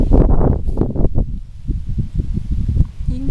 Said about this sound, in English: Unfortunately, it's pretty windy outside,